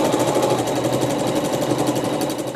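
An embroidery sewing machine stitches a heart design, its needle chattering in a fast, steady mechanical rhythm that stays loud and close without pause.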